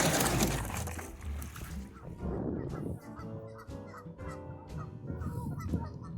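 A family of geese with their goslings on an island honks and clucks in agitation, loud and near, in a steady overlapping clamour of calls.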